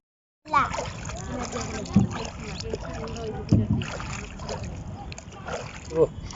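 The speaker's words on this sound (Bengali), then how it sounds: "আর একটু পর পর আসে কচুরিপানা, নৌকাটা একটু ধাক্কা খায় আর হেলে দুলে যায়" A small rowboat rocks on a river near Beutha Bridge in Manikganj, nudged by floating water hyacinth; water sloshes and laps against the hull with occasional hollow knocks, while people talk over it.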